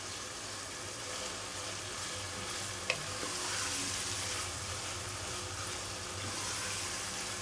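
Minced keema fries in a pan with a steady, close sizzle and the scrape of stirring. One sharp knock comes near the three-second mark, and no one speaks.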